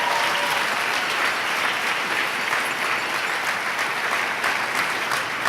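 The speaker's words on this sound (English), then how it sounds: "So please do give them a round of applause straight off the bat" A community schools national forum audience gives a sustained round of applause at an opening performance event, steady dense clapping from many hands filling the room throughout without a break.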